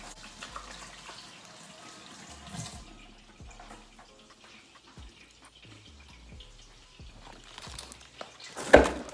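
Hands are washed under a running kitchen tap, with faint flowing water, scattered splashes and drips, and a louder gush near the end.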